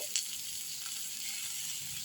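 A soft, steady sizzle of garam masala and coriander frying in a pan, quiet and continuous with a faint clink near the start.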